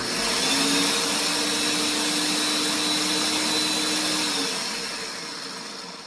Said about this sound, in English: you just put all those ingredients in your blender